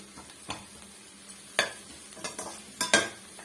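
Onions sautéing in a pan for an egg side dish, a soft low sizzle punctuated by a series of distinct spoon scrapes and knocks as the onions are stirred.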